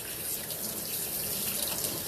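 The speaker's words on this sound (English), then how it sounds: "Turn it to a little bit warmer water." Warm water runs steadily from a kitchen sink faucet as dishes are washed, a continuous close hiss and splash that stays even for about two seconds with no voices.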